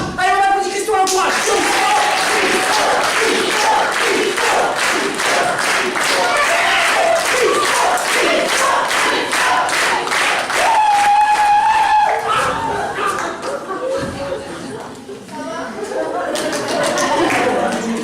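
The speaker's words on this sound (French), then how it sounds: "Allez, on applaudit Christo, on l'encourage." An audience applauds and cheers to encourage Christo before his five-minute turn at a comedy stage show, dense steady clapping with whoops running the full length, a voice briefly rising over the crowd.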